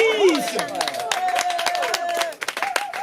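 An audience at a slam poetry evening in Vence applauds, with dense, fast claps of steady loudness for about two and a half seconds. Voices and crowd chatter run through the clapping, which thins into a few scattered claps at the end.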